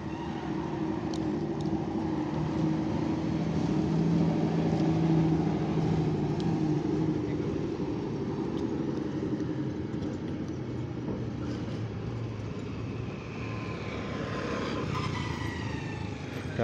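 A city bus passing through the arrival shelter bend at Purabaya Bungurasih bus terminal, a steady engine rumble that swells as it nears and then eases, over a constant low traffic din, with no talk.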